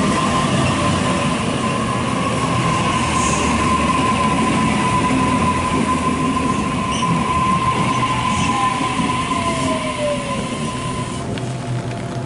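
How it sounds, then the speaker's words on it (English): A Series 1 Waratah electric train rumbles steadily close by with a long high wheel squeal as it departs a Sydney platform, its sound easing slightly toward the end as it pulls away. "Series 1 Waratah set A44 is now departing platform number 1"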